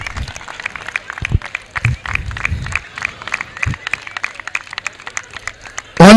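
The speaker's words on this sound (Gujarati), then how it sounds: "ફરી એકવાર કહું છું કે અન્નપૂર્ણા સમિતિ માટે એકવાર જોરદાર તાળીઓ થઈ જાય" An audience at a cricket tournament prize distribution ceremony claps for the Annapurna food committee, loose scattered hand claps in a quick irregular patter, fairly close, with a few low thumps and voices mixed in.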